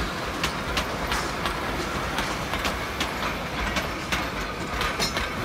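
A smoke-spewing tourist train rolls past the Vennesla water sluice, a steady clickety-clack of wheels over rail joints with regular sharp clicks, close and continuous throughout.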